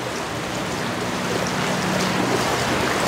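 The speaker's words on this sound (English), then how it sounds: "So then you just put the funnel in another cup and you keep running the water over the pebbles." Water running steadily over pebbles held in a funnel and draining into a cup, a continuous even trickle and splash heard alone.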